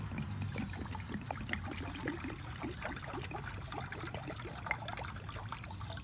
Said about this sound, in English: I don't know how many ounces of water I'm putting into this pot